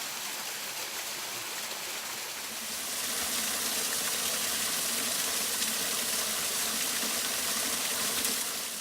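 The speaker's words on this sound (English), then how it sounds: "it's never bad when you have running water" Running stream water along a hiking trail, a steady broadband rush that swells louder after the first few seconds and then holds constant, with no voices.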